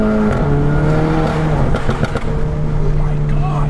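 Stage 2 tuned 2015 Volkswagen GTI rumbling loudly up close with a few sharp exhaust pops cracking through, while people talk over the engine.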